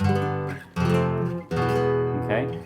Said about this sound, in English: it uses the Andalusian cadence. That's the descending cadence that you hear a lot in flamenco. It sounds like this.